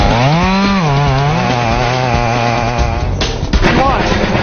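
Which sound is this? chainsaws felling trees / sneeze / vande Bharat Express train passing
chainsaws felling trees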